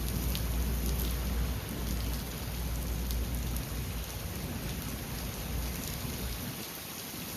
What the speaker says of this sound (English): Here's what it looked like and sounded like up in the Desert Ridge area when it finally started pouring